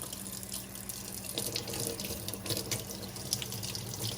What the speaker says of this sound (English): I always get a paper towel and dry that so that the water don't stay there